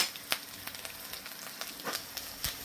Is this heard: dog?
no